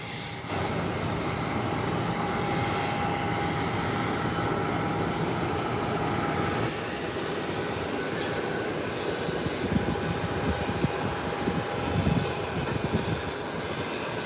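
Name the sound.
jet aircraft taxiing down runway for takeoff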